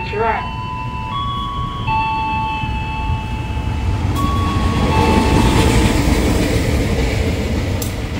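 Commuter train at Rajawali station in Indonesia, steady loud rumble of a passing train throughout with tonal horn or announcement chime lines near the start, a broad continuous roar building slightly toward the end.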